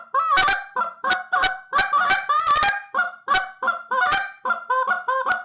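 Goose call with a tuned reed bent for extra tone, blown in a quick series of about a dozen loud, close honks and clucks in an uneven rhythm, with no voices.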